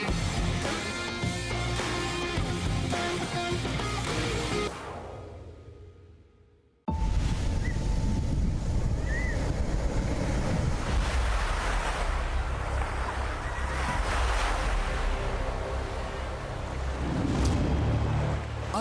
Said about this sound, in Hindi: अरब सागर की लहरों को चीरते हुए